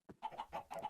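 Minecraft chickens clucking in three short, near bursts within a second, each a quick nasal squawk separated by tiny pauses, with nothing else heard.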